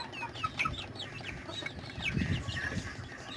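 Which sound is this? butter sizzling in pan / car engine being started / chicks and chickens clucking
chicks and chickens clucking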